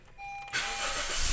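Automatic car parked with the handbrake on, engine cranked and starting: a warning chime tone gives way to a broad whooshing engine catch that settles into a steady idle, close and moderately loud.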